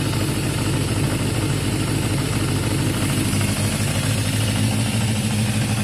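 A Yamaha XJ550 motorcycle with an intermittent fault idles at lowered revs, a steady, loud, close engine drone with an even low rumble throughout.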